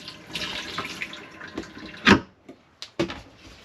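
Water runs from a tap in a new, empty motorhome, a splashing, gurgling stream with uneven bursts, a couple of sharp louder gushes and short gaps where the flow stops and restarts, close by.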